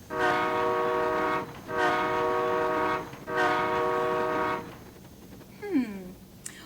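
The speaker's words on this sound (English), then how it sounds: "3 short blasts mean the train is backing up" Three evenly spaced, loud, sustained train horn blasts, each over a second long, signaling a train backing up, followed by quieter rail noise and a brief squeal.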